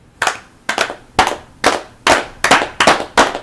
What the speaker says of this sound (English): Okay, everybody start clapping.